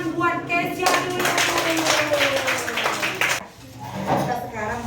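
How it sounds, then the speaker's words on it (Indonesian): A classroom full of people claps together in a burst of applause, hands clattering loudly, while a voice speaks over it before the clapping fades. "Berarti masih kita tepuk tangan buat Kesia dulu."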